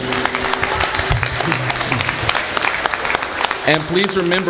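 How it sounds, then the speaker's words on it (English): Audience applause at a county political meeting, loud continuous clapping with voices and shouting mixed in, and a person speaking near the end over the fading claps. "So give yourselves applause"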